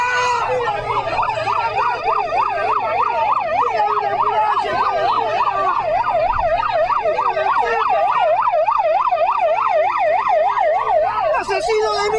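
An ambulance siren wails continuously at close range, its rapid rising and falling tone loud and steady throughout, with a faint rumble of traffic beneath.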